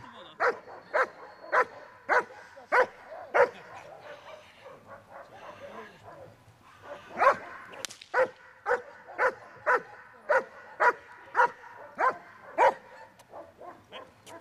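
A guard dog barks during protection training, giving sharp, evenly spaced barks in two long runs separated by a short pause. The barking is loud and close, with a brief voice or whimper heard between the runs.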